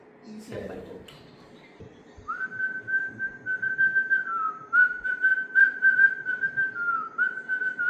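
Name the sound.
person whistling a song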